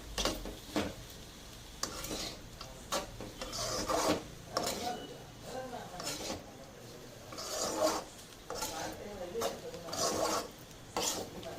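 Carrot and bean stir-fry with grated coconut is stirred in a pan, making repeated scraping and rasping strokes of a spoon against the pan in an uneven rhythm, fairly close and moderately quiet.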